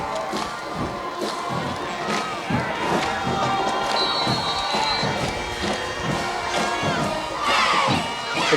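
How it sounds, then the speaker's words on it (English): A crowd at a 1994 high school football game against Cheltenham cheers and shouts continuously, with excited voices and whoops rising and falling; a louder burst swells near the end. "The crowd's really getting into this game."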